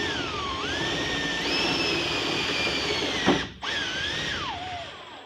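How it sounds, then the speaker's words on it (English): A power drill drives Tek screws into folded sheet metal, a steady high whine that rises and dips in pitch as the motor loads and frees, with a brief sharp break near the end before the whir resumes, close and loud. "all we're going to do is put Tek screws into it"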